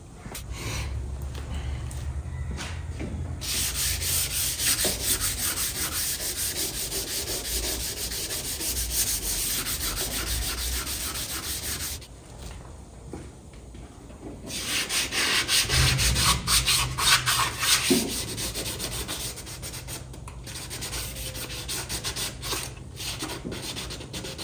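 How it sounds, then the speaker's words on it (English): Sandpaper of 320 and 600 grit rubs back and forth over a primered Chevy Nova body panel in long, steady, close strokes, with a pause midway before the sanding resumes. "Now we're gonna sand it with some 320 and then 600, and then we'll spray that."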